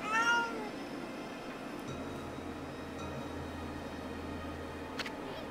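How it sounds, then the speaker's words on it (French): A cat meows in the video game Okami, harmonic cries clustered at the very start, then a steady low game background with a brief faint chirp near the end. "Miaulement, ils se sont arrêtés."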